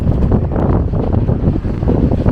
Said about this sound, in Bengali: এখানে বাতাসে দাঁড়ানো যাচ্ছে না, এরকম মনে হচ্ছে বাতাস আমাকে উড়িয়ে নিয়ে যাচ্ছে